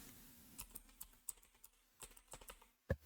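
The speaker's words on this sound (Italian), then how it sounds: "apriamo il nostro browser e in Google andiamo a digitare" Typing on a computer keyboard to search for a program in a web browser: a quick, close, fairly faint series of uneven key taps, ending with one firmer keystroke.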